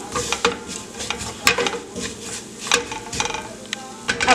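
Coriander powder is dry-roasted in a pan over low heat with a spoon scraping and stirring, giving repeated rough scratches and light clacks with soft sizzling underneath, close and uneven in rhythm.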